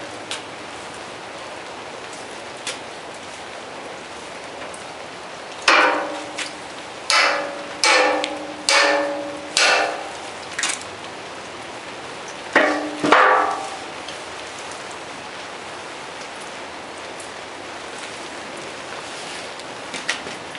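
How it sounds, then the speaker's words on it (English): A series of sharp hammer blows on a lithium polymer battery, about six in quick succession followed by a couple more after a pause, each a hard metallic knock against a soft object. "hitting it with a hammer."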